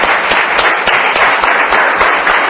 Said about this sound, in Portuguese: Quem está entendendo, aplaude.